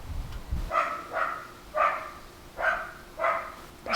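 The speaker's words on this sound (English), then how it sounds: "my neighbor's dog is losing it" A neighbor's dog barks from a distance in a series of five sharp woofs spaced roughly evenly apart, faint and somewhat muffled, with a low thump just before the first.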